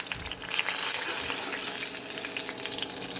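Mustard seeds and asafoetida sizzle in 4 to 5 tablespoons of hot oil in a kadai for a raw banana fry, a steady, loud, dense crackle with scattered pops running throughout.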